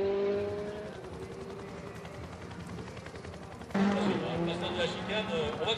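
A rally car at speed on the Strasbourg asphalt stage of the Rallye de France Alsace, engine note steady and then abruptly louder and closer as it passes, with a commentator talking over it throughout.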